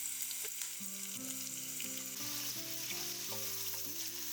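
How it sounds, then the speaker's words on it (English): Chopped garlic and ginger fry in a pan for Indian street-style noodles, giving a steady, close sizzle that runs without pause under background music. "We're going to start by adding chopped garlic and ginger."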